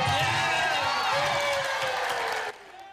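A crowd at a charity auction run by Oprah Winfrey bursts into loud, sustained cheering and applause, with whoops over dense clapping that carries on steadily for several seconds before dropping off abruptly near the end.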